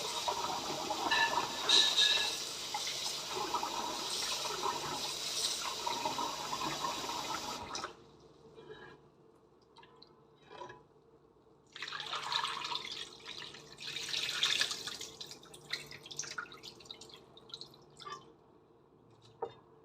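Soybeans being washed in water for homemade tempe, a steady splashing and trickling that stops briefly midway and then resumes, close and moderately loud, with no talking.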